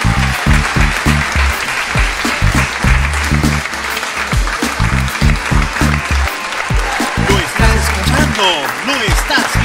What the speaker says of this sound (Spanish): El grupo folclórico del Perú, por favor, lo aplaudimos.